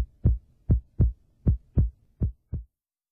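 Heartbeat sound effect for a Carlube Triple R motor oil advertisement: seven deep, evenly spaced thumps, loud and close, with silence between beats and after the last one.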